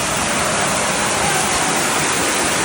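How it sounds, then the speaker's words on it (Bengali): Heavy, steady downpour with a dense, constant hiss of rain and no pauses, loud and close throughout. "এরকম মুসলধারে বৃষ্টি অনেকদিন পর দেখছি"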